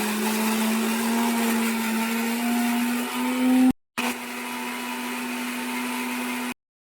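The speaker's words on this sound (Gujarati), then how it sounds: "ઢાંકી દેવી અને મિક્સર કરી દેવી શરૂ." A kitchen mixer grinder whirs loudly as it blends coriander, chili, ginger, garlic and mint into a paste for panipuri water; the steady whine stops for a moment, restarts, then cuts off.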